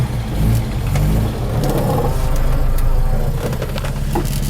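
A 1967 Volvo Amazon 122S station wagon with a dual-carb B18 engine revs as it pulls forward, a close, loud, steady engine drone with rising effort and rumble throughout.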